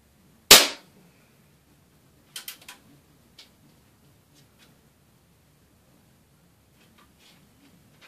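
A Daisy air rifle fires a .22 wadcutter pellet with one sharp, loud crack, followed by a few faint ticks and clicks of the impact or handling, then near silence.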